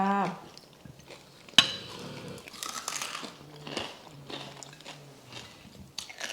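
Crispy pork being bitten and chewed up close, with a sharp crunch followed by irregular crunching and chewing, and a brief murmured voice at the start.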